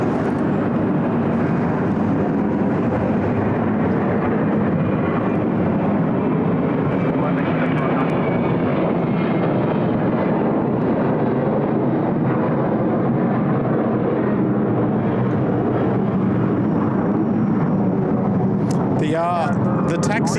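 A Qantas airliner on the Sydney Airport Hong Kong service, its jet engines producing a loud, sustained roar with a rising whine, while a person talks over the aircraft noise.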